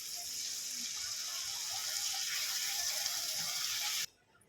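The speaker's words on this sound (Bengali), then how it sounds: "উপর থেকে একটু জল দিয়ে দেব" Water poured from above into a pan of fried cumin spice paste for an egg and red lentil dish makes a steady, close gushing hiss for about four seconds, then stops abruptly, leaving faint room noise.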